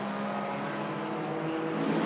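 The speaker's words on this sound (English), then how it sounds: "our lead car and our winner makes its way down the main straight" A Lotus race car drives down the main straight at Sydney Motorsport Park during a Production Cars race, holding a steady, moderately loud engine whine that builds slightly toward the end.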